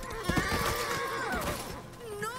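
A long, wavering whinny from a horse in the video game Darksiders III rises and trails off across most of the moment, close and clear, with scattered hoof thuds early on and a brief second call at the end.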